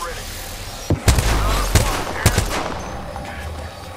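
Gunfire in the video game Apex Legends, several sharp shots and short bursts crack out close and loud over a constant game background, with a voice speaking over it.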